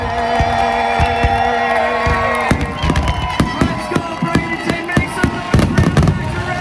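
A large fireworks show at the Freedom Factory motorsport festival, with sharp booms and crackling bursts popping in a rapid, irregular barrage over a cheering crowd, loud and close throughout.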